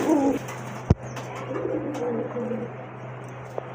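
A pigeon coos in low, soft repeated phrases close by, with a sharp knock and light background noise.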